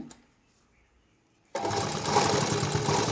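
A sewing machine stitches the neckline of a blouse, starting abruptly after a quiet moment and then running at a steady, close, continuous whir for the rest of the clip.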